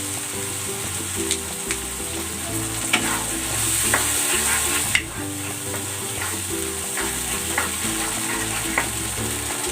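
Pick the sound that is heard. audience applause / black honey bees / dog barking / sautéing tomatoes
sautéing tomatoes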